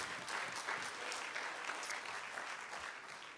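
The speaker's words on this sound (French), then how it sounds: "j'aimerais un applaudissement encore plus grand" A church congregation claps together after a sermon prayer, a dense, even burst of applause from many hands filling the room without any voices over it.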